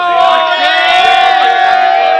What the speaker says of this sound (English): a lot of crowds are here from CLK home ground